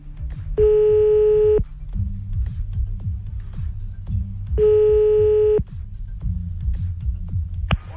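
Telephone dialing for a call to a radio show listener: two long electronic tones separated by a gap, over a low throbbing background and a brief click near the end.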